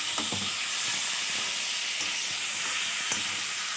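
Homemade Kadaknath chicken being sautéed with spices in a pan, giving a steady, close sizzle and hiss with a few soft scrapes and stirs throughout, no voices.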